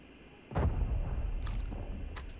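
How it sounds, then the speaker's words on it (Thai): A grenade blast goes off outside during an Arena Breakout match, a single muffled boom from a distance with a long rumbling tail, followed by fainter distant pops. "ข้างนอกโยนระเบิดใส่กันยับยับเลยครับ"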